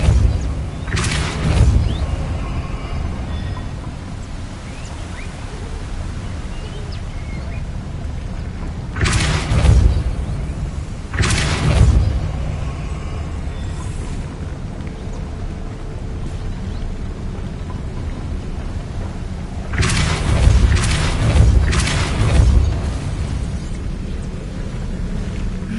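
Depulso spell blasts in Hogwarts Legacy land as several loud, booming bursts in uneven clusters, separated by stretches of low ambient rumble, with no talking.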